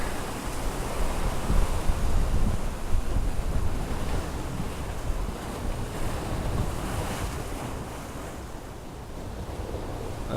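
Waves wash into a small bay inlet in Hawaii, a continuous broadband rush of surf mixed with wind buffeting the microphone, steady and moderately loud with gentle swells and no voices.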